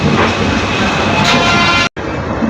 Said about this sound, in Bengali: এই সবাই ট্রেন যাত্রা করছি